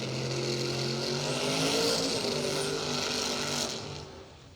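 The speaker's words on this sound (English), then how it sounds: "a one generation later RX-7, also V8 powered here" A V8-powered RX-7 drag racing car roars at a street drag event, its engine a loud sustained drone that rises in pitch, then fades as it pulls away.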